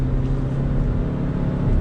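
A 2019 Audi Q3 is driven hard, its engine giving a loud, steady drone with road and tyre roar throughout, close and with no talk.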